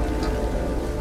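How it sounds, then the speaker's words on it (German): Steady rain pours down in the video game Beyond Two Souls, a dense, even hiss of falling water close by, continuing unbroken with no voices over it. "Gott, verdammter Regen."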